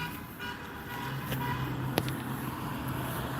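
Cars passing on a road outside Elmira State Prison during a strike, a steady moderate traffic rumble with one short horn toot in the middle.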